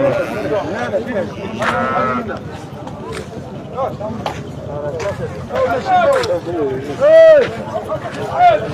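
At a livestock market selling sacrificial sheep and goats, sheep bleat repeatedly, some close and loud, under steady talk from buyers and sellers in a busy crowd.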